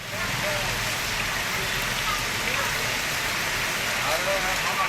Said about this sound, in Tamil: தமிழகத்தின் வட மாவட்டங்களில் பலத்த காற்றுடன் கனமழை கொட்டியது.